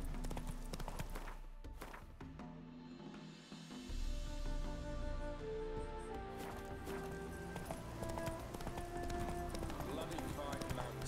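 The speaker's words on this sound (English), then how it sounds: "Spooking my horse." Geralt's horse Roach, hooves clopping with a possible whinny in The Witcher 3, under a busy game soundscape with music and some speech.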